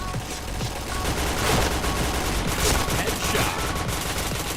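Rapid, dense automatic gunfire in the PointBlank shooter game rattles continuously and loudly in bursts, with faint talk beneath.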